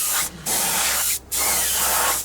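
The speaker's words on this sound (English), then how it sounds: "we just give it a nice spray like so" Flat varnish sprayed from an aerosol can onto a scale model in three steady hissing bursts, each one cut off by a short pause, close and fairly loud, with nobody talking.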